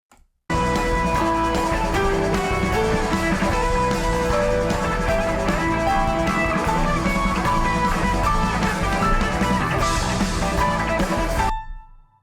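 Keyboard notes run steadily up and down a minor pentatonic scale over a busy accompaniment, playing continuously for about eleven seconds before stopping abruptly.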